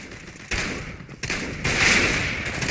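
Gunfire in a CSGO Battle Royale match, with loud close bursts of rapid automatic shots starting and stopping in quick succession, dense and continuous through the final second.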